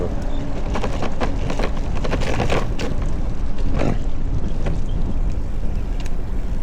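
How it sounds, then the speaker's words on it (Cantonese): Strong wind roars and buffets the microphone continuously, a loud rushing noise with gusty thumps throughout. "好大風"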